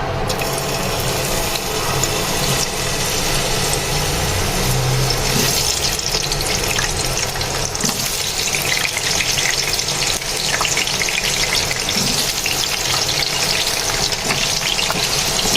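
Potato pieces frying in hot oil in a pan for biryani, a dense continuous loud sizzle with crackling and occasional stirring scrapes, close up and without speech.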